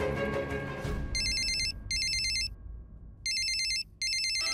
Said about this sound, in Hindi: अपनी शिव्या का फोन है यार, उठाना यार